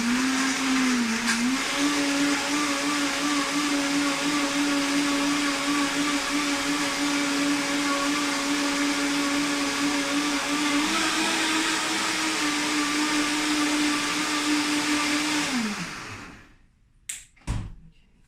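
Blender mixing Herbalife Formula 1 shake powder with water and ice, a steady loud motor whine held for about fifteen seconds before winding down, followed by a couple of sharp knocks.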